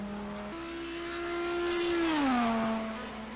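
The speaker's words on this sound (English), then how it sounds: "You see Cog here coming through Indianapolis, and now he's going to hit Arnage himself" Race cars lap Le Mans in a racing video game, one engine holding a steady high whine, then rising louder as it revs up and dropping in pitch as it passes and shifts, heard alone without commentary.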